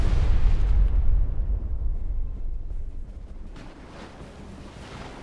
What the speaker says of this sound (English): Ready depth charges. Shallow pattern.